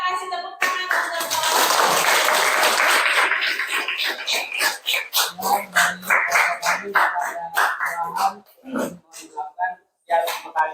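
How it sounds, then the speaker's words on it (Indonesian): A classroom audience at a university teacher-training session claps in a dense burst that thins into scattered individual claps, with voices speaking in between toward the end. "kita kasih tepuk tangan"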